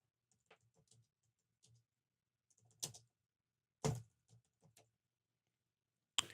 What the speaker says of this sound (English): I'm going to try and type something.